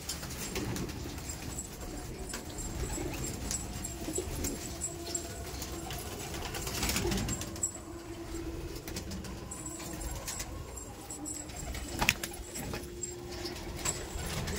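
Old Sulemani kagzi pigeons with wheat-coloured beaks coo steadily, low and soft, in a loft with no talking over a constant background hum.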